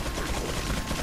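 Sustained machine gun fire in the video game Resident Evil 4, a dense, continuous burst of rapid shots that stays loud and close through the whole moment with no break.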